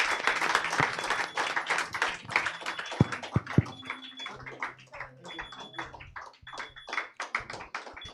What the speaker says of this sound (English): Give a big round of applause for Talent Quest for India.